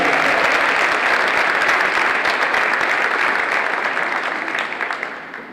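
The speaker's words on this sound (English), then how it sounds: "Can we have a round of applause for all of the finalists and winners?" Dense, loud applause from a crowd at a school Mr. and Miss pageant, cheering the finalists and winners, steady throughout and tapering slightly near the end.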